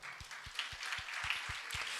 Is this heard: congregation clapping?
yes